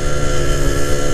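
A motorcycle fitted with a B2M racing exhaust (knalpot) drones loudly and steadily at close range, a dense buzzing engine tone with no pauses.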